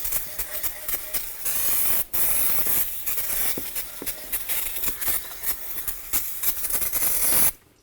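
Cleaner is sprayed around the parking brake area of a 2007-2017 Ford Expedition: a loud, steady hissing spray that runs almost nonstop, with one brief break and a sudden stop at the end.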